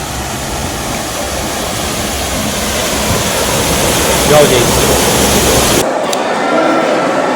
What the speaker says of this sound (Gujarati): પાણીનો ધોધ જોતા ખરી ક્યાંથી પડ્યો હવે?